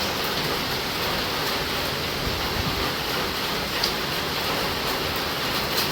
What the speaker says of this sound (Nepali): साउनको झरी चाहिँ